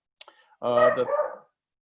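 A pet dog gives a short yip and then a longer, whining bark-howl, heard close and alone indoors for about a second.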